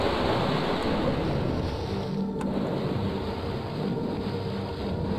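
Constant watery splashing and rushing fill a spooky video game as the player moves through water, a steady loud wash with no talking over it.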